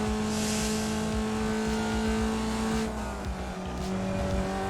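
A Formula Vee race car in the iRacing sim at Laguna Seca revs hard and steadily, its engine drone shifting pitch as it climbs through the gears, loud and continuous with no talking.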